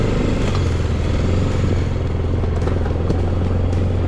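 A Tracker 600 ATV engine runs loud and close at steady speed during a ride through muddy property terrain, a constant low drone with rattling clatter and no speech.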